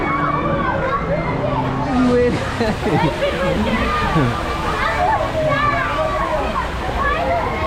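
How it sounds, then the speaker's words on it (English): Wave pool at Universal's Volcano Bay water park, rushing and sloshing water under lively crowd chatter and voices, with a person speaking close by. "They send out the waves right here."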